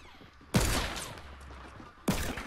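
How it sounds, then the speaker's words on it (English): Two loud, sharp gunshot blasts in a sniper shootout video game, one at about half a second and another near two seconds, each with a long booming tail that fills the gap between them. "I think somebody's shooting at us."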